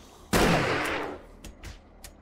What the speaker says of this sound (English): All I hear is like chaos. Zombie bears, zombies, and gunshots.